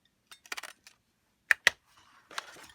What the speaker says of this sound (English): I am going to use a paper punch for circles, and I am going to cut out 2 circles from my foiled paper here